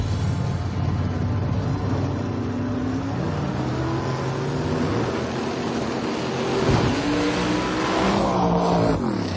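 Engine of a race car roaring steadily through a drag race round, loud and continuous with shifting engine tones, rising briefly near the end.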